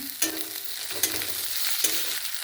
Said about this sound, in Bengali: ক্যাপসিকাম কুচিটা দিয়ে দিলাম।